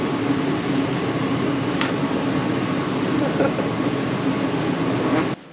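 An air conditioner runs at maximum cooling, giving a steady, dense broadband whoosh of fan and airflow that holds evenly for several seconds, then drops off abruptly near the end.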